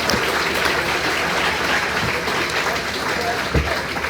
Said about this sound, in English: a collective round of applause for all of our 2024 inductees